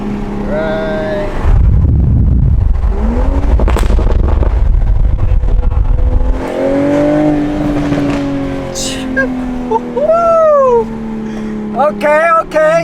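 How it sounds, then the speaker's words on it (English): A Toyota Supra A91 CF-Edition revs hard through a gear shift, a loud, deep exhaust roar lasting several seconds with a few crackling pops, followed by lighter engine drone while people chat in the cabin. "As if I pop it in the second right here, it should give me a nice little sound."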